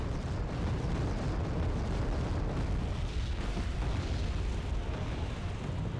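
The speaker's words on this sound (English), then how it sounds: "Oh, artillery." Artillery shells bursting in the Wargame Airland Battle strategy game, a dense continuous rumble of overlapping booms and blasts filling the whole stretch with no talking.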